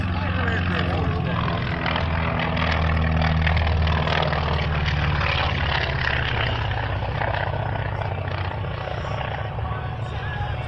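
A World War II fighter aircraft performs aerobatic rolls at the 2017 Millville Wings and Wheels airshow, its propeller engine a loud steady drone throughout, broad and sustained with a public-address announcer talking over it.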